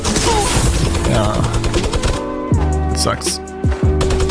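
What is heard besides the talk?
minigun gunfire from a hacker in a video game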